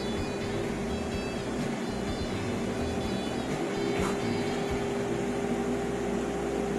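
A kitchen chimney exhaust hood running in a home kitchen, giving off a constant broadband whooshing drone with faint steady tones, even and unbroken throughout, with no voices.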